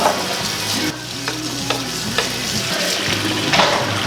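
Dishes being washed in a kitchen sink, with running water, clinks and scrubbing noises, close and fairly loud, continuous throughout with no speech.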